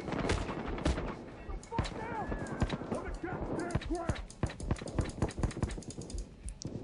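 Gunfire in the video game Payday 2, rapid irregular bursts of sharp shots mixed with clicky impacts, at moderate level under a voice talking.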